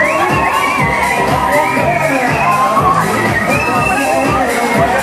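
Riders on a Waltzer fairground ride at Newcastle Town Moor scream and cheer continuously, a loud crowd of shouting voices over the ride's mechanical rumble.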